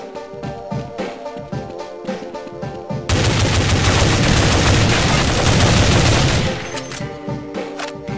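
Heavy burst of automatic gunfire from Counter-Strike 1.6 on the de_eldorado map against bots, a dense sustained volley of several seconds, loud and close, framed by sparser shots and in-game sounds before and after.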